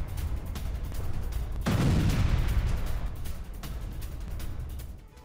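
A heavy explosion bursts out amid continuous rumbling, with scattered sharp cracks before and after, like ongoing gunfire at a distance, as a BMP-3 armored vehicle is destroyed in the Russia-Ukraine war.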